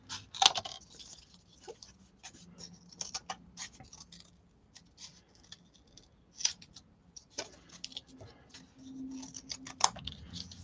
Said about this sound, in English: I'm going to cut me one more piece of cardboard out here